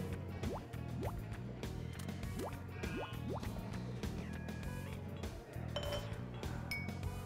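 Soda or mineral water poured into a glass of orange juice with sugar, a continuous fizzing fill with rising pitch sweeps, light drips and occasional glass clinks, close and steady throughout.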